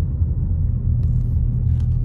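A car creeps slowly along a snowy road at Big Bear Lake, California, giving a low, steady engine rumble from inside the vehicle with faint scattered clicks.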